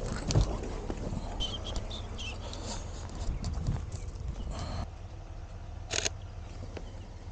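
Horse hooves clip-clop intermittently at a moderate distance over a steady, foggy outdoor background in Wisconsin, with a faint bit of talking.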